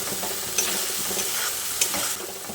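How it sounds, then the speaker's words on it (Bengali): Spice paste with cashews stir-fries in a pan over a low-medium gas flame, a soft continuous sizzle with a few sharper scrapes of the spoon against the pan. "গ্যাসের ফ্লেমটাকে লো টু মিডিয়ামে করে মশলাটাকে ভালো করে কষিয়ে নিতে হবে।"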